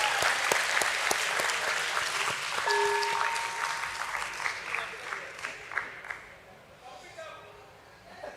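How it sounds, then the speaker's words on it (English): A crowd at a BSE stock exchange listing ceremony for Netweb Technologies claps and cheers loudly, the applause thinning into scattered claps and fading toward the end, with voices heard over it. "let us all cheer one more time"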